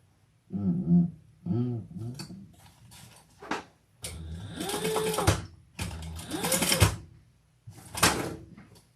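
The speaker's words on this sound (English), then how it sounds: "let's just top stitch this" A sewing machine top stitches a fabric training treat bag, running in several short bursts of rapid mechanical whirring and ticking separated by brief pauses, fairly close and clear with no talking over it.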